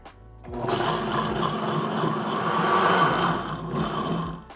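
Warm chicken stock steeped and simmered pours into a blender in a home kitchen, a steady continuous rushing splash lasting several seconds, close and fairly loud with no talking.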